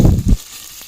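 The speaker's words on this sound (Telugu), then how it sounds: "ఆనియన్ని అలా ఇలా అలా ఇలా తిప్పుతూ కొద్దిగా రోస్ట్ చేసుకోవాలి" Chopped onion frying in oil with curry leaves for a cauliflower and potato curry, heard as a loud close sizzle with two quick stirring bursts, then a fade to a faint hiss.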